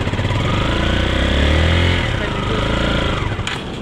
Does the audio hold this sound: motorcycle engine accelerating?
yes